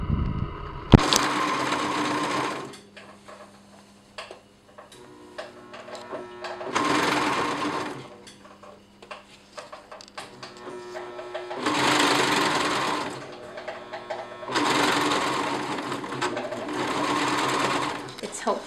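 A coverstitch machine sews fold-over elastic onto a garment, running in several slow bursts of rapid mechanical stitching separated by pauses. A voice talks throughout, mostly in the gaps.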